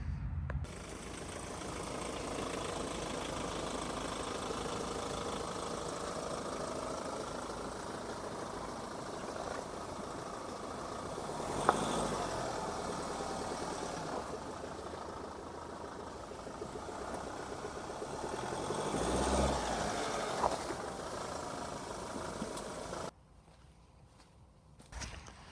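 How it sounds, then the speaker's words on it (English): A truck engine idles and rumbles steadily as the vehicle rolls over an object on muddy ground, a low continuous drone with a couple of brief bumps before it cuts off near the end. "Alright, so truck's been over the top of it, a bit muddy."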